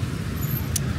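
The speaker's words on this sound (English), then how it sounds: "you're just hearing a lot of cars, lots of dust and smog and exhaust from the cars" Steady low rumble of car traffic on a city road in Phnom Penh, a continuous broadband hum with a brief hiss partway through, no voices.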